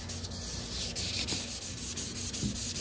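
Steady, continuous hand sanding of wood edges, a dry abrasive rubbing with slight rhythmic strokes, hand held flat without a block, close and fairly loud, no voices.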